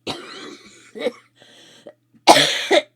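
A person coughs and clears their throat in several short, harsh bursts close by, with pauses between, ending in a louder double cough.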